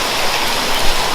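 Rain falling steadily, a dense, even hiss of drops that is close and fairly loud, with no voices.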